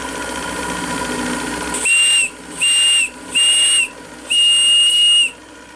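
A small steam whistle on the Fulgerul, a model steam gunboat, gives four sharp, shrill toots, the last held a little longer, over a constant close hiss of escaping steam.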